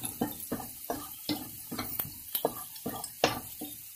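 Onion, garlic and ginger paste frying in a small amount of oil, steady soft sizzle broken by rhythmic scraping strokes of a spoon stirring the pan about every half second, close and clear.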